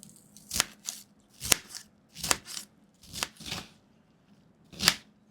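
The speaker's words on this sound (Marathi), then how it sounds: "आता आपल्याला हे दांडे आहेत आळूचे, ते कापून घ्यायचे, ते पण बारीक कापून घ्यायचे आपल्याला" A knife finely chops taro stalks on a board, giving about seven crisp, close cuts in an uneven rhythm with short quiet pauses between them. No one speaks.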